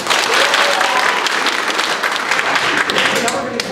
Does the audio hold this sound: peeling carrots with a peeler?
no